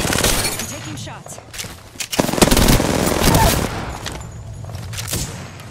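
Video game gunfire in a battle royale match, rapid bursts of automatic shots and impacts crackling over a couple of seconds, loud and close, with someone talking over the action.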